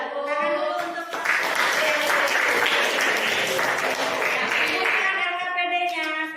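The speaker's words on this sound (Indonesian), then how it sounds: "Ayo, tepuk tangan dulu untuk" A classroom of students claps together in sustained applause for several seconds, with a teacher's voice speaking briefly before and after the clapping.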